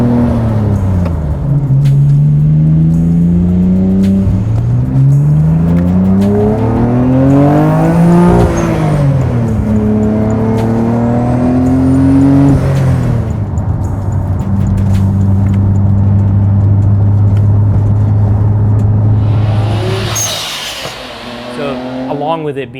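A rare US-legal Nissan Skyline GT-R R34 being driven, engine rising and falling through repeated gear pulls, loud and close, with a sharp burst near the end.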